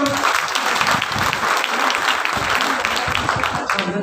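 Sustained audience applause at a principals' meeting, many hands clapping in a dense, steady wash that stays fairly loud and close for the whole stretch, with no clear break.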